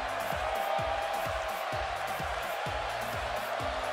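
Steady, loud crowd cheering in a WWE wrestling video game arena, a continuous roar that doesn't let up, with rhythmic low thumps pulsing underneath throughout.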